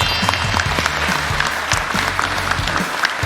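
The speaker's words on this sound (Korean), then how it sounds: "여기 또 박수 한번 쳐드릴까요?" Applause at a Korean cabinet meeting for the labor minister and staff, steady dense clapping from a roomful of officials, fairly close and loud, continuing throughout with scattered sharper claps.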